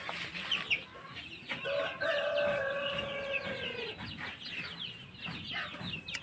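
Rhode Island, Hubbard and Black Astrolord heritage chickens on a farm, with a drawn-out crow in the middle and scattered clucks around it, fairly close and mixed into a busy flock background.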